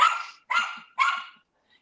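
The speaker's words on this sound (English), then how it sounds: "He's going to bark the whole time now." A small dog barks three times in quick, evenly spaced succession, loud and close, with brief silence after each bark.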